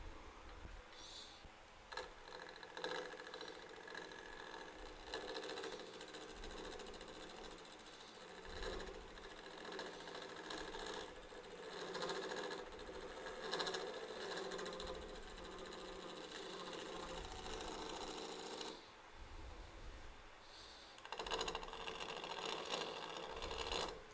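A negative rake scraper cuts a mug turning on a lathe, giving a continuous buzzing chatter with rhythmic ticking that stops briefly near the end and then resumes.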